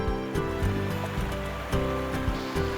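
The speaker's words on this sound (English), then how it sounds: "The Pacuare River is one of the most beautiful rivers in the world" The Pacuare River in Costa Rica rushes in a steady, moderately quiet wash of flowing water, with soft surges and no voices.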